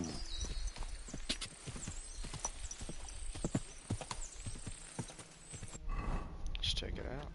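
Horse hooves gallop in the medieval video game Kingdom Come, a loud, rapid clip-clop rhythm running throughout, with a brief whinny-like call and a voice speaking over the hoofbeats near the end.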